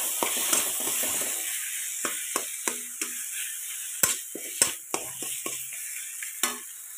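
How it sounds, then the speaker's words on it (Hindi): A spoon scrapes and knocks in a pan as mashed eggplant is stirred into fried spices for baingan bharta, with sharp irregular strokes over a steady frying sizzle. "अब हम यहाँ पे मैश किया हुआ बैंगन डाल देंगे मिला देंगे इसको मसालों में"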